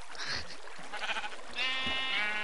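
Sheep bleats in a blocky survival video game, two or three short nasal bleats spread across the moment, fairly close and clear over faint background game ambience, with no talking.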